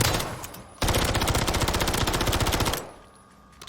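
SMG gunfire in Warzone 3, a rapid, loud burst of fully automatic shots lasting about two seconds, with quieter game ambience before and after.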